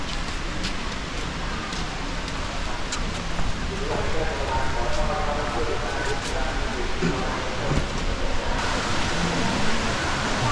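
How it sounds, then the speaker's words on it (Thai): Khlong Lan waterfall in Kamphaeng Phet rushes with a dense, steady roar of falling water, loud and continuous, while people talk faintly nearby. "ได้ยินเสียงน้ำตกแล้ว"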